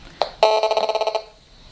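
A cordless DECT home phone rings close by: a brief electronic chirp, then a rapid warbling trill of about a dozen pulses lasting under a second, ending abruptly into quiet.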